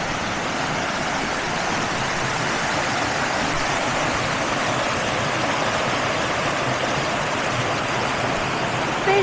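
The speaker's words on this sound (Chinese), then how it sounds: "很清澈的溪水" Clear forest stream flowing through an autumn woodland in Harriman State Park, New York, a steady, close, continuous rushing wash of water with no pauses, filling the whole stretch on its own.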